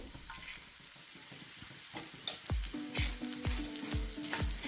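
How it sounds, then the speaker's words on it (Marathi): Whole spices such as star anise, poppy seeds and fennel are fried in a pan for village-style chicken masala, sizzling steadily while a utensil stirs with repeated scraping clinks that grow louder. "चला आपण हे तळून घेऊ."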